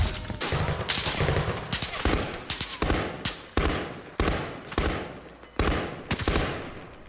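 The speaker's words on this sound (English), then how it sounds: "Who's shooting at me?" Rapid bursts of automatic gunfire in a first-person shooter game, a string of sharp, loud volleys repeating every half second to second, with brief gaps between bursts and no talk.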